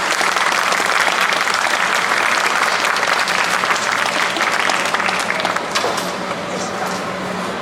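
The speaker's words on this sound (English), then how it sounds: "Let's give him a round of applause." A conference audience at a shark convention breaks into loud, dense clapping that holds steady for several seconds, then eases off toward the end.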